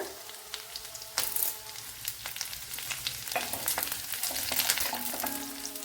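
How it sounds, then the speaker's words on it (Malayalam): Green chili and a handful of curry leaves crackle and sizzle in hot oil in a pan, with bright spitting pops over a steady frying hiss, close and fairly loud. "ചെറിയ പീസ് ഒരു പച്ചമുളക് കുറച്ച് കറി ലീവ്സ് ഇട്ട് കൊടുക്കുക"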